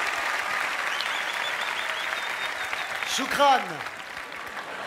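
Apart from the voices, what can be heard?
applause for a comedian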